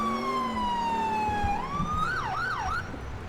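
A police siren in the video game GTA IV wails, sliding down slowly then switching to rapid rising-and-falling yelps, loud and close, with a low vehicle rumble beneath.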